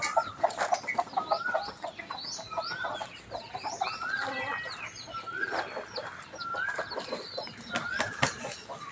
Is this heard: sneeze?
no